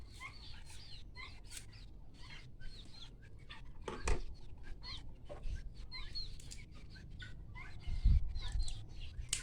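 A farmyard rooster crows while hens cluck and chatter close by in a busy, continuous flock, with a couple of louder bumps as wings flap.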